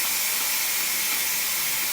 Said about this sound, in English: it's kind of sprinkling some steam right here, and it's going onto my floor